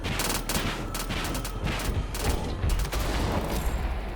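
Bombs and rockets fired from the XFAD-4 Draugr aircraft in the video game Battlefield 2042, a rapid dense barrage of blasts and fire that rumbles steadily over a few seconds.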